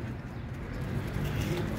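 Low, soft cooing of pigeons close by, a continuous murmuring burble with no talking.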